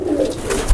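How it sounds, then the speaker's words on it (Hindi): An Indian Dobaas highflyer pigeon gives a brief, close, low cooing call in a loft setup, over a soft background. "ये देखिए दोबास कबूतर"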